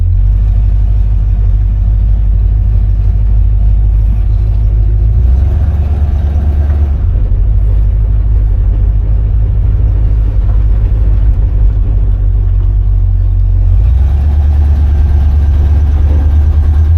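A 1969 Buick Skylark's engine drones loud and steady while driving, a deep continuous rumble with slight shifts in pitch as the throttle changes, no voices present.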